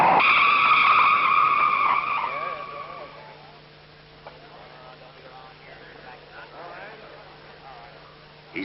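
Race car wheels spinning and skidding on the track at a 1956 qualifying run, a loud sustained squealing whine for about three seconds that fades into quieter background noise with a steady hum beneath.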